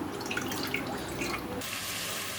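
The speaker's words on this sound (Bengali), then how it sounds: "এইবার আমার মাপের জলটা নিলাম" Measured water poured into a pan on a gas stove before cooking semolina, a brief steady splashing pour, close and moderately loud, heard alone.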